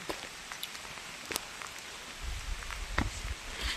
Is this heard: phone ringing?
no